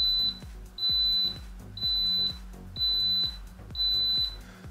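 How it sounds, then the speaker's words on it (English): A Cuisinart Double Belgian Waffle Maker signals it is ready with a row of evenly spaced, shrill electronic beeps, each sustained briefly and standing alone in a quiet kitchen. "Six beeps means it's ready."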